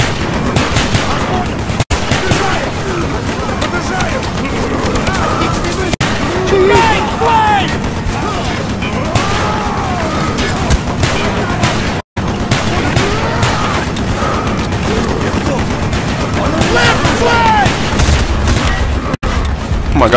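Gunfire in the video game Call of Duty: Black Ops campaign, with dense rapid bursts and shots rattling continuously alongside booms, loud and close, while a voice talks over parts of it.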